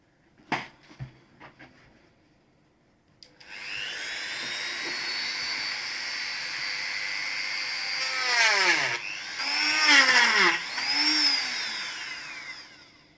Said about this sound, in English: I'm going to get it cut down a little bit further with the Dremel